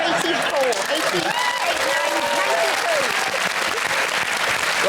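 A studio audience at a panel comedy show claps in a steady wash, with lively voices and laughter running over it.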